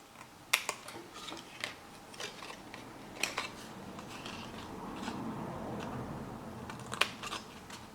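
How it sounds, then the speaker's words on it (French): A blade slices cardboard at a slight bevel for a tea box mini album, with sharp close snips and clicks scattered over a quiet, faintly rustling background. "Je vais couper légèrement en biseau pour pas que ça frotte"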